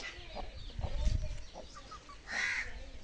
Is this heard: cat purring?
no